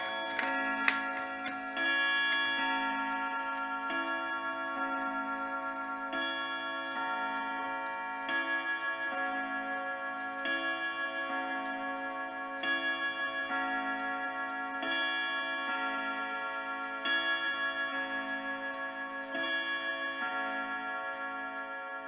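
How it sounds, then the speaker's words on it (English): A mid-century modern Kieninger German wall clock ticks steadily and evenly at close range in a quiet room, its soft regular beat running on alone throughout. "It is a mid-century modern Kieninger German wall clock,"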